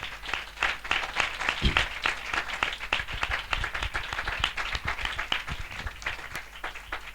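Loud, energetic clapping from a congregation at a church spiritual assembly, a thick wash of many hands with a few sharp claps standing out, continuous for about seven seconds.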